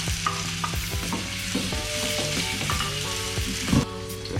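Chili and ginger sizzle steadily in sesame oil in a pan, with the frying close and continuous and occasional stirring knocks, no talking over it.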